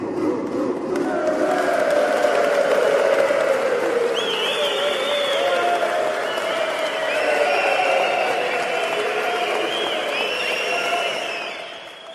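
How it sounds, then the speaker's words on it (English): An audience breaks into sustained applause and cheering for a winner named Will, loud crowd noise with whoops and shouts rising over the clapping before fading out at the end. "We'll just give some good applause for Will there"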